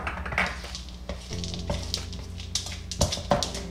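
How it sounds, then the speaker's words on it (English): Semi-sweet chocolate chips stirred into eggless edible chocolate chip cookie dough in a bowl, giving a close, uneven run of scraping, clicking stir strokes with a few sharper knocks against the bowl. "Now you just wanna stir in the semi-sweet chocolate chips"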